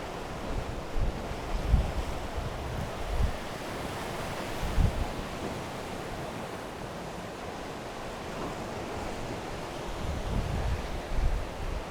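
Gusty wind on the Cornish seashore near St Michael's Mount, a steady broadband roar with surf washing beneath it, rising into louder buffets against the microphone every few seconds, with no voices.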